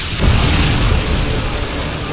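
A loud, rumbling boom of a Predator missile explosion in Modern Warfare 2 (2009) that rolls out into a sustained roaring blast, heavy and full-bodied.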